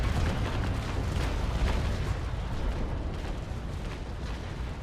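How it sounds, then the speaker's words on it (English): A sailing warship fires a broadside in the Naval Action game: a dense, continuous rumble of cannon blasts rolls on for several seconds as one sustained, loud barrage with no talking. "getting ready for the broadside,"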